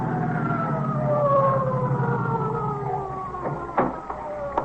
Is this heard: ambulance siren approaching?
yes